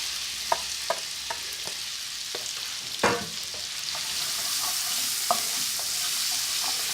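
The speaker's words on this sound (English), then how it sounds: "I'm going to give that a good stir." Onions frying in a pan for vegetable curry sizzle steadily while a spoon stirs them, making a series of light scrapes and one louder clatter midway, close and without speech.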